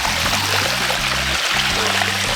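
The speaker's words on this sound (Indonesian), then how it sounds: "Nanti otomatis airnya akan keluar lewat sini" Water gushes steadily out of a drained turtle pond through a large PVC pipe, a loud, continuous rushing pour with a low gurgling rumble underneath.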